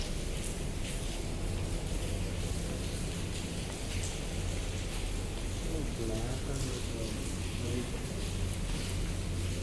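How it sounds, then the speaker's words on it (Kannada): Light drizzling rain under dark, cloudy skies makes a steady, even hiss throughout, with faint voices in the background. "ಜಿಟಿ ಜಿಟಿ ಮಳೆ."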